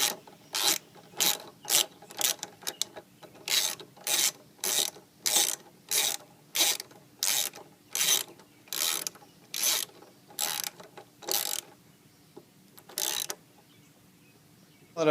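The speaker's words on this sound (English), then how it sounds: "grab my 5mm Allen wrench and tighten it the rest of the way" A 5mm Allen wrench tightens a Loctite-coated bolt on the front brake of a 2002 Honda Shadow Sabre 1100, giving about twenty evenly spaced ratcheting clicks, close and crisp, before the clicking stops.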